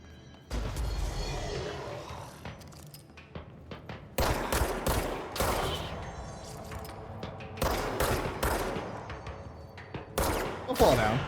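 Gunfire in the video game Control arrives in several loud, rapid bursts with short pauses between volleys, while a player's voice talks over the shooting.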